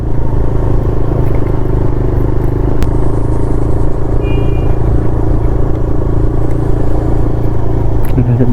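A motorcycle that had been having trouble runs again after being restarted, holding a loud, steady engine rumble close by with a faint clatter and no pauses.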